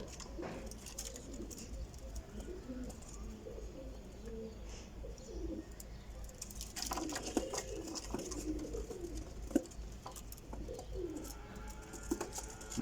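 Pigeons of a Teddy breeding pair coo in soft, low, repeated calls, fairly close and moderately loud over steady background noise, with a few chirps and no talk.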